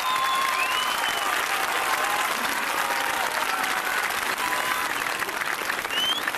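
Steady, broad applause from a large outdoor crowd at a rally in Athens' Pedion tou Areos, heard from a distance and continuing evenly without pause, with faint whistles over it.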